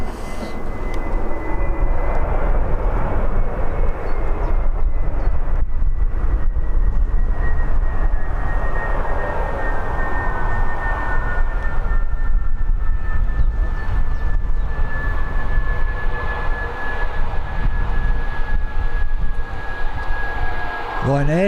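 A Ryanair airliner taxis at Birmingham airport with a steady, loud engine roar and a faint high whine, heard continuously under gusting wind.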